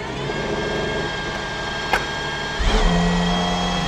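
An Aston Martin Valkyrie's naturally aspirated 6.5-litre V12 starts: a brief steady whir with a sharp tick, then a loud low rumble that catches and settles into a close, steady idle.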